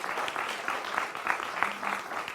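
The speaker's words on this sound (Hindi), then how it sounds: "मेरे साथ स्वामी दिवांकर है, जोरदार तालियों से इनका स्वागत करिए" Studio audience applause greets a guest on a Hindi television debate show, with steady, dense clapping held at an even level for a couple of seconds and no voices over it.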